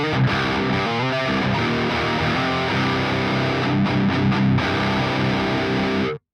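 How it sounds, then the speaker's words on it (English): Heavily distorted electric guitar through a DS-1 distortion pedal turned fully up plays thick, sustained chords and riffs, loud and saturated, then cuts off abruptly. "Diming the distortion gives me a solid, beefy texture to it"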